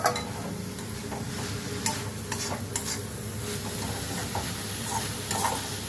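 Chopped onion and amaranth leaves frying in a pan while being stirred, a steady low sizzle with light scraping and ticking utensil taps throughout, close and even.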